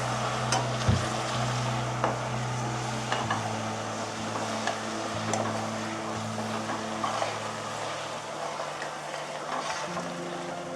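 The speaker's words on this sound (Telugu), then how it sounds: "ఇది పచ్చివాసన పోయేదాకా వేయించుకోవాలి" Ginger garlic paste frying in a pan for chicken pickle, a steady close sizzle and crackle with occasional stirring scrapes, under a low constant hum from the cooking setup.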